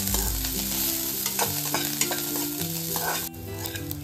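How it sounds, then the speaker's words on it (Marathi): Bhadang, puffed rice with finely chopped coriander, is stir-fried continuously in a little oil, giving a busy crackling sizzle and scraping throughout, with a steady tonal hum in the background. "साधारणतः 1-2 मिनिटांसाठी आपण सतत परतून घेतलेलं आहे।"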